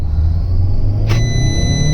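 A Fiat diesel car engine runs at a steady, loud idle with a deep, constant rumble, broken by one brief sharp click partway through.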